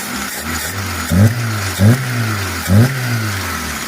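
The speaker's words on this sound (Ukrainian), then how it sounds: "Чуть-чуть зараз детонірує, тому що машина гаряча" A VAZ 099 with a 1.5 engine and a freshly repaired Solex carburetor idles hot and close, slightly knocking, with three short throttle blips rising over the steady idle.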